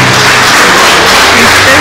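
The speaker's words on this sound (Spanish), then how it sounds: "Un aplauso, que sea fuerte." Wedding guests applaud together in a loud, dense burst of clapping that fills the room and keeps steady throughout, with voices mixed into the crowd noise.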